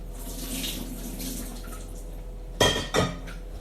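Tap water runs into a kitchen sink while an apple is washed under it, a soft steady splashing that ends with two sharp knocks of something set down against the sink.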